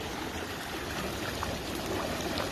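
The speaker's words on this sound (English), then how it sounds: "There's a culvert pipe that is 6 foot tall under here for perspective, and it is sucking that water down." Floodwater from a storm-swollen creek rushes loudly and continuously into a six-foot-tall culvert pipe under a street, a dense unbroken roar of churning water.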